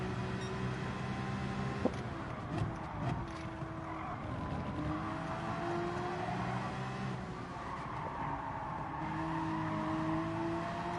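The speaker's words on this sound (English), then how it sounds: "Oh! The Ferrari spun around." A Ferrari spins out in Gran Turismo 7 at Autopolis, Japan, its tires squealing in long wavering skids over steady engine drone, with other race cars roaring past, fairly faint overall.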